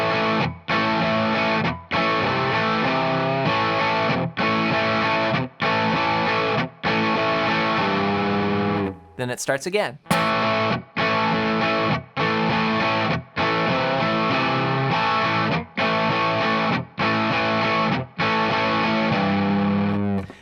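Heavily distorted electric guitar plays a riff as loud, rhythmic chord stabs separated by short breaks, with a brief noisy scrape midway. A voice speaks briefly over the playing.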